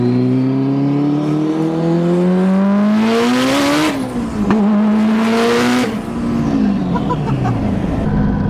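Loud engine revving hard as an 1100 hp Mitsubishi Evo VIII accelerates, pitch climbing through the gears with brief drops at shifts, close and roaring.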